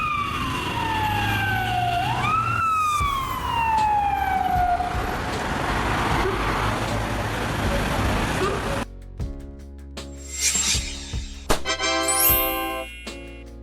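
A Serbian ambulance siren wails in rising and falling sweeps for several seconds, loud and close over road noise, then breaks off into short tonal horn blasts and scattered clatter.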